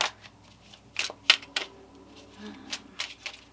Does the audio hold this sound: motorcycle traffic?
no